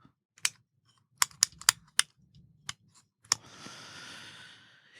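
A swiveling remote speaker mic clip on a TYT Platinum Series unit clicks sharply on its locking bearing, about eight quick separate clicks in close succession, followed by a soft rustling shuffle.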